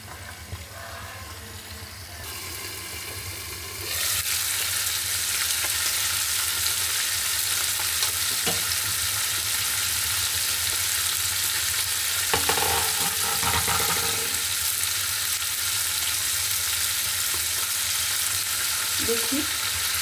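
Fish and vegetables fry in a covered pan, a loud, constant sizzle that swells after a few seconds and holds steady, with a few faint clinks of utensils mixed in.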